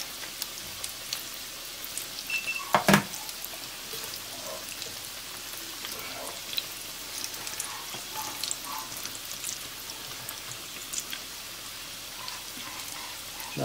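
Apple fritters fry in hot oil with a continuous bubbling sizzle like steady rain, close and even, broken by one brief clatter near the start.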